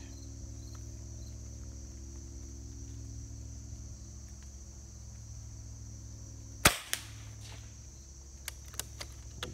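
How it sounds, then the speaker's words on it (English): Five shots from a Hatsan Nova QE .25 caliber air rifle, with a sharp crack near the middle followed by a few smaller ticks later over a steady background hum, no talking. "So here we go, five shots, upper left."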